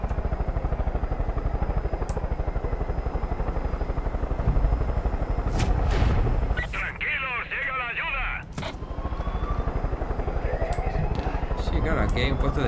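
A helicopter flying in the video game Far Cry 5 gives a steady, loud rotor drone through the whole stretch, with brief sharp bursts mixed in and someone talking over it.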